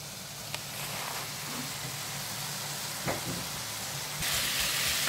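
Steady broadband sizzle of beef for boeuf bourguignon frying in a hot pan, close and continuous, with a brief clink of a utensil and a louder hiss near the end.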